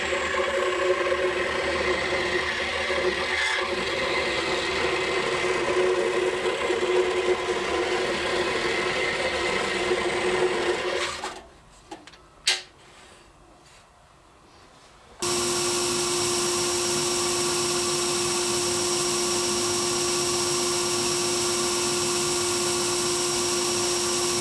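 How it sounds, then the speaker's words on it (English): A scroll saw with a number 7 reverse tooth blade cuts wood in a steady, loud buzzing whine, falls to near silence with a few clicks, then restarts into a steady hum. "And we can now take it over to the scroll saw. I'm going to cut again just outside the lines using a number 7 reverse tooth blade"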